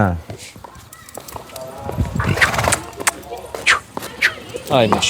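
Hooves of a six-year-old crossbred horse clop in an uneven walking rhythm close by, with a horse whinnying and people talking over it.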